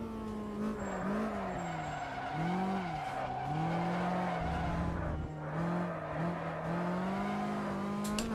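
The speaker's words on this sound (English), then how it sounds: "Nice tyre skid sound as well," A race car in a racing sim video game squeals its tyres in long wavering skids, the pitch bending up and down over a steady engine drone across several seconds.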